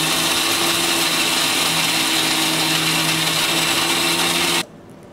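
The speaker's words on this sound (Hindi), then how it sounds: "अच्छे से हम सारे मिक्सर को पीस लेंगे।" A mixer grinder blending an aam panna mixture with cumin powder and black pepper runs at a loud, steady whir, then cuts off abruptly near the end into quiet.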